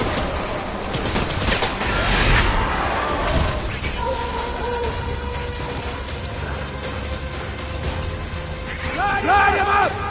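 Gunfire in the video game Death Stranding, a cluttered volley of shots and mechanical clatter early on that fades into a humming tone, with voices shouting commands.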